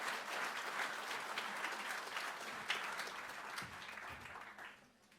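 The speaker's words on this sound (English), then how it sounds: "If I could get everybody to give them a round of applause" Steady audience applause fills a conference hall at a horse racing industry gathering, dense and even throughout before tapering off at the end, with no talk over it.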